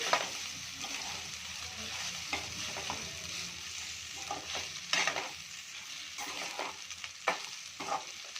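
Cooked rice tossed and mixed with tamarind chutney in a pan, giving soft sizzling under irregular scraping and clattering spoon strokes.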